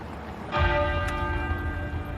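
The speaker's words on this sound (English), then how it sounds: "the great tenor bell at Westminster Abbey began to toll" The great tenor bell of Westminster Abbey tolls a single deep, loud strike that rings on with a long, steady humming decay.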